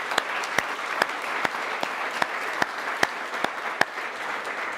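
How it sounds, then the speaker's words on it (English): Sustained applause from a group at an annual award presentation, a dense patter of clapping with a few sharp, louder claps standing out near the front. "One more round of applause for our champion."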